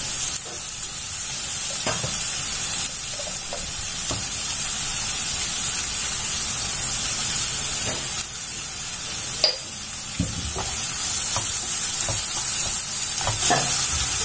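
Onions with salt sautéing in a pan for chicken-stuffed chatti pathiri, a constant loud sizzle with repeated scraping stirs and clicks of a spatula throughout, no talking.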